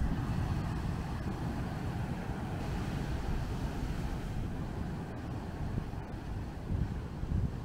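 Ocean surf breaking among rocks and sand on a beach at Guajataca, a continuous close roar of crashing water mixed with wind buffeting the microphone, with no voices.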